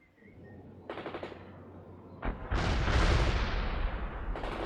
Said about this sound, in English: Fires a machine gun.